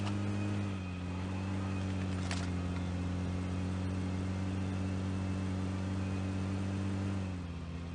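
A steady, droning car engine idles continuously in the video game PUBG Mobile, with a brief high click partway through and a slight drop in tone near the end.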